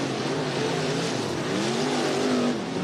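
Race cars running hot laps at Southern Oregon Speedway in Medford, with a loud, steady engine roar and rising, shifting pitch as cars pass close by, no voices.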